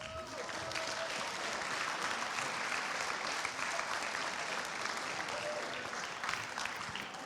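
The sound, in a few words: applause for the volunteers and judges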